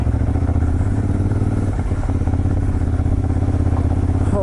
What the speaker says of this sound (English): First time ever riding a motorcycle.